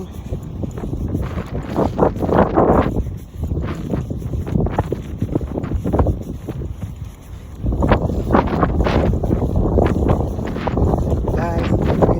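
Strong gusting wind buffets the microphone on a windy day, a loud continuous roar that swells and rushes in waves, with a voice speaking faintly underneath.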